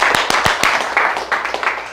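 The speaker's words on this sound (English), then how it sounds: "You can clap that up." Audience members clap at a real estate talk, a short burst of scattered, fairly close handclaps in an uneven rhythm that fades out over about two seconds.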